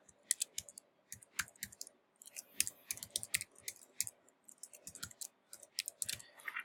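An email address being typed on a computer keyboard, a quick irregular run of crisp key clicks in bursts with short pauses, close and clear against a quiet background.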